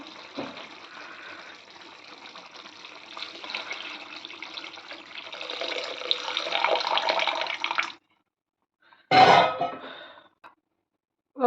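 Tamarind juice is poured into a simmering egg and brinjal curry, a steady liquid splash and bubbling that swells louder before cutting off, followed by a short sharp clatter.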